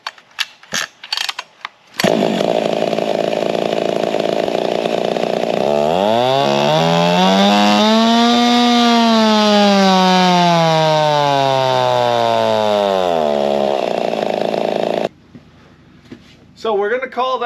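A race-tuned Husqvarna 55 farm saw with a big muffler and brace, running loud and close: it fires up, then screams through a long rising and falling high-rev pull before dropping back, with brief knocks at the start and end.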